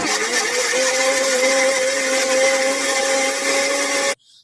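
A kitchen mixer grinding tomatoes, ginger and garlic for spicy chutney, a loud steady high motor whine with a constant tone that runs unbroken, then cuts off abruptly near the end.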